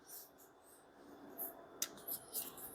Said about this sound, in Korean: 그러면 또 이제 색칠 해봐야죠.